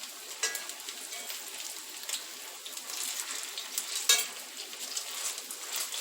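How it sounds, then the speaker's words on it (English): Chicken cutlets frying in a pan, a steady close sizzle and crackle like rain, with a few sharper clicks and scrapes as two forks turn them over. "That's how I'm going to flip these over with 2 forks."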